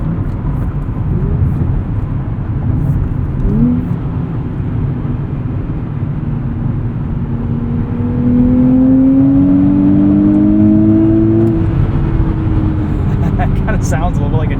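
A 2023 Nissan Z's engine hums and climbs steadily in pitch as the car accelerates, heard from inside the cabin on rough Michigan roads, with a steady rumble of road noise underneath.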